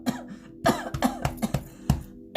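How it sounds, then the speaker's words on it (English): Several sharp coughs in quick succession with short gaps, close and fairly loud, followed by a final cough at the end. "Excuse me for the coughing."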